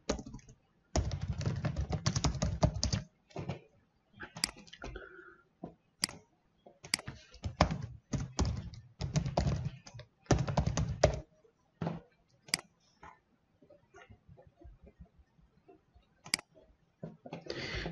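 Bursts of quick clicking keystrokes on a computer keyboard as an email address is typed into a form field, close and dry, in irregular runs separated by short pauses.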